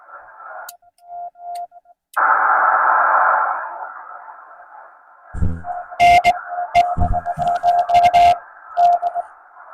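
Faint on-off tones of a Morse code CW radio signal pick at the edge of the hiss during a Parks on the Air activation at West Shawnigan Provincial Park, with bursts of static and clicks breaking in.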